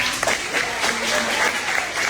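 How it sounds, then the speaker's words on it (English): A crowd at a Carroll Center graduation ceremony applauds the staff with steady, dense clapping that fills the room, close and fairly loud, without pause for a couple of seconds. "let's give a round of applause to all those"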